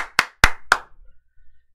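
Four sharp hand claps ring out in quick, slightly uneven succession, loud and close, followed by quiet room noise, with no talking over them.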